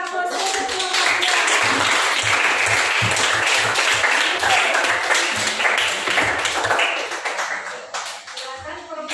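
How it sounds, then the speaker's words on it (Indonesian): Sustained applause from a classroom audience for a student group after a drama performance, steady dense clapping that fades near the end, with a voice faintly heard. "Sekali lagi kita berikan aplaus untuk kelompok"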